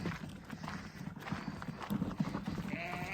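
A herd of ten horses comes in to feed, hooves clip-clopping in a busy, continuous patter at moderate distance over outdoor background noise.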